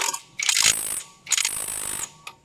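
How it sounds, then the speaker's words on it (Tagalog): An impact wrench spins and hammers in two short bursts, each a high whirring rattle lasting under a second, close and loud, tightening during Honda Click torque drive work with no talking. "Okay, pahigpit ang ating impact wrench."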